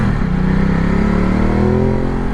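A motorcycle ridden hard in sport mode along a winding road in Gran Canaria gives a loud, steady engine roar with a slowly rising pitch, close and continuous for the whole stretch.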